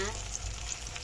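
Oil sizzles and crackles in a pan as flour-battered bananas fry, a short steady hiss close by.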